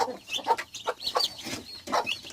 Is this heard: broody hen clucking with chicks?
yes